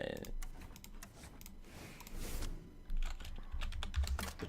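Typing on a computer keyboard while building a Reno card deck, a steady patter of key clicks running under ongoing casual talk.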